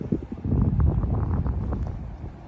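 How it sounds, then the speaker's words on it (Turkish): Wind buffets the microphone in a steady low rumble at a pier in South Carolina, with no voices. "Hafif rüzgarlı burası."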